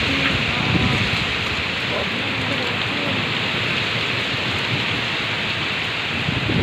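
Heavy rain pours down steadily in a dense, continuous wash of noise that holds at an even, loud level throughout with no speech.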